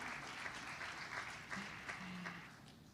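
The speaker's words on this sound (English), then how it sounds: "Can we give them another round of applause," Conference audience applauding, a dense, even wash of clapping from many hands that holds steady throughout, heard at a moderate distance with no speech over it.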